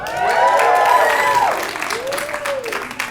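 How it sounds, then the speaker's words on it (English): A comedy club audience cheers and applauds loudly, with whoops and a yell over the clapping, which tapers off to scattered claps toward the end. "Make some noise if you're in your 30s."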